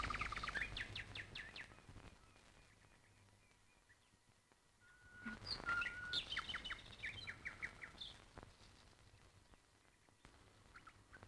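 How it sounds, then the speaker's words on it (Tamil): Birds chirping and calling in a scene from a dubbed Tamil film, with a cluster of quick tweets at the start and a livelier burst of overlapping calls midway, fairly faint over a low background. "இங்க இருந்தா பறவைங்க பறக்கிறது, அதுங்க கத்துறது"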